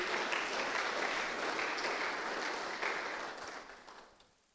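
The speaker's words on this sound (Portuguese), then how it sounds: "Aplaude Jesus aí." During a Bible study gathering, a church congregation claps for Jesus in a full, dense round of applause that holds steady, then fades out over the last second or so, with no talking.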